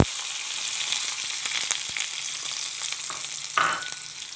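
Thinly sliced garlic and small shallots sizzling in hot oil after mustard seeds have spluttered, while tomato rasam is being made, a steady close crackling fry with scattered pops and a brief stirring scrape near the end.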